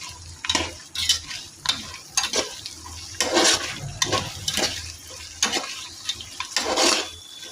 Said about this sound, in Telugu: జీడిపప్పులు కొద్దిగా వేగిన తర్వాత అప్పుడు ఉల్లిపాయలు వేసుకోవాలి